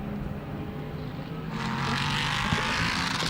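A Ligier LMP3 race car on track at Slovakia Ring in a GT Cup Series race roars past with a rising engine note that grows louder and brighter halfway through, continuing as a steady, close, high-revving drone.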